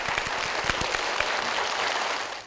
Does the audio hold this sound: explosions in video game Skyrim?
no